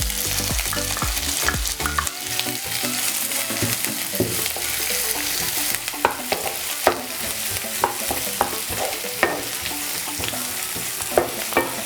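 Onions sautéing in a pan for dhaba-style bhindi masala, a dense steady sizzle with frequent sharp scraping clicks of a spoon stirring throughout, close and continuous with no talk.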